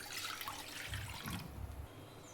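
Water is poured into a pan on a lit gas stove to make rice flour dough, a continuous splashing and trickling pour with a fuller gush midway, heard close and alone with no talk.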